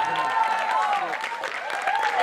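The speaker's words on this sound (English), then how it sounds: "give a huge round of applause for Ritika Dee" A crowd claps steadily in applause at a school farewell event, with some cheering and voices mixed in throughout.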